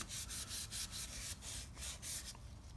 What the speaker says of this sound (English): we're just going to wipe them off with a little bit of Scotch-Brite here